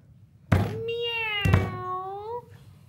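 A person imitates a cat, giving two drawn-out, falling meows in a row, close and loud with a sharp onset on each.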